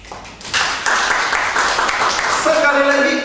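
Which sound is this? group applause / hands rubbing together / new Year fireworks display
group applause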